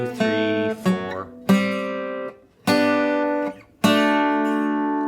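Guitar picking triad shapes for measures 5 to 8 of the second line, played as clear plucked chords in a steady repeating rhythm, close and loud, with each group of notes ringing out before the next attack.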